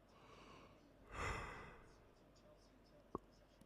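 A single yawn, a soft breathy swell that rises and then fades over about a second, near and quiet, followed by a brief faint click.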